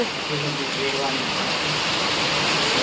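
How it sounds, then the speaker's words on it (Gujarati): Heavy monsoon rain pours down outdoors as a steady loud hiss filling the whole scene, with a voice talking faintly underneath. "બહુ વરસાદ પડવા માંડ્યો જો કેટલો બધો પડે"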